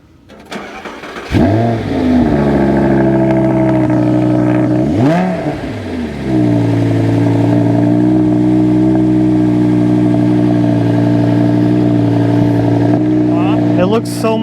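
Audi R8 with a V10 FSI engine and a check engine light, at a salvage auction, cranking and firing up, then revving hard twice before settling into a loud, steady idle, with people talking over it.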